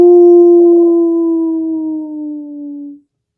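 A single long howl imitating a wolf, voiced by people during a radio show, one sustained wavering tone that slowly falls in pitch and then stops abruptly.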